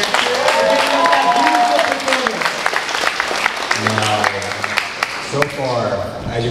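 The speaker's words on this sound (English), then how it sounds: "Give another round of applause for Bobby McIntyre." Audience applause at a talent show after a performance, a steady burst of clapping from a crowd lasting several seconds, with a host's voice over it.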